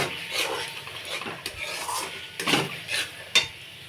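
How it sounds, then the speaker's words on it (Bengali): Thick masala paste being sautéed and stirred in a pan for a katla fish kalia, giving soft scraping strokes and gentle sizzling in uneven bursts, close and moderately loud with no talk. "মশলাটা খুব ভালো করে কষানো হয়ে এসছে"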